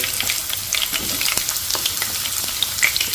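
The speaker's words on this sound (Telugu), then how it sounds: "ఆయిల్ హీట్ ఎక్కింది ఇప్పుడు మనం కట్ చేసి పెట్టుకున్నటువంటి కాకరకాయలు వేసేసుకుందామండి దీనిలో" Cut bitter gourd pieces fry in hot oil, with a close, continuous crackling sizzle dotted with sharp pops and scraping stirs throughout.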